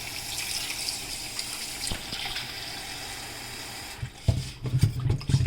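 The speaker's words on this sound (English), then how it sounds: "Put some water on." Water runs steadily from a tap with a soft hiss, then splashes more unevenly toward the end, close and fairly quiet.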